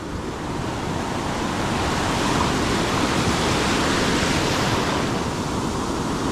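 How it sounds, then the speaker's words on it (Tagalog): Sea waves roll and crash in a continuous, loud wash of surf, heard close at the water's edge, with no voices. "Sunod-sunod yung ano ng alon."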